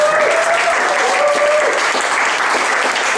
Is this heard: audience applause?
yes